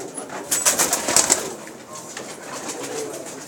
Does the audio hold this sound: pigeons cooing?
yes